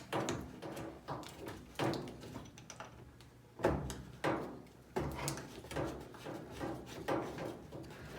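Braided steel hose being fitted onto a washing machine's hot water inlet, a string of quiet clicks, knocks and scraping handling sounds in irregular bursts, close by with no talking.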